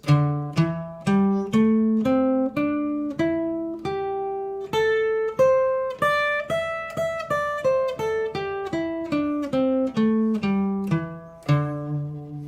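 A single clean guitar plays a scale note by note, climbing up and then descending back down at an even, unhurried pace.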